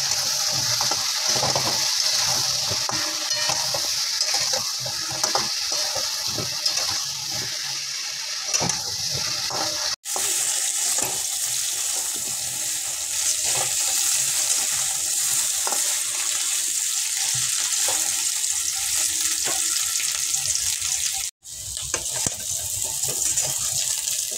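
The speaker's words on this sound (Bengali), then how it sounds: "অল্প সামান্য লবণ দিয়ে দিলাম। এবার আমি ভেজে নিই।" Raw banana pieces seasoned with turmeric and salt fry in a pan, a steady close sizzle with intermittent stirring scrapes over about twenty seconds, no talking.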